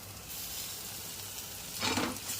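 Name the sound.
ginger garlic paste sautéing in pan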